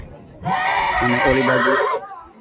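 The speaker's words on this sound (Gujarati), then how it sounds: "મયુરભાઈ મેરનો ટ્રિગર ઘોડો જુનાગઢનો." A racehorse neighs loudly and close by before a horse race in Gujarat, one long whinny of about a second and a half that rises and then trails off.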